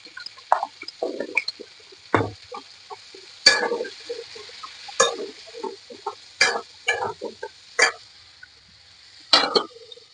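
Potatoes for a potato curry are stirred in a pan, with a sparse, irregular run of close scraping knocks and clinks and soft sizzling hiss between them.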